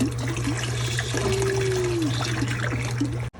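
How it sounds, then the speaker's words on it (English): Cold water pouring out of a DIY cold plunge tub with a filtration system, a steady close trickle and splash over a constant low pump hum that cuts off abruptly at the end. "Cold water coming out."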